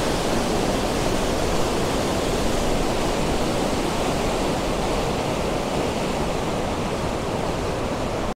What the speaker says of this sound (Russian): О, это начало, мощная какая река.